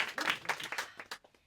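Short, sparse clapping from a comedy show audience, a handful of distinct claps that quickly trail off into quiet.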